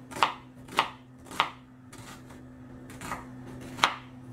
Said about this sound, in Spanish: Vamos a picar una cebolla.